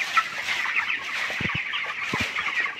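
A flock of 520 broiler chickens, 20 days old, murmurs and clucks softly in a poultry shed at night in winter, a low continuous chatter with a few dull thumps, no one speaking.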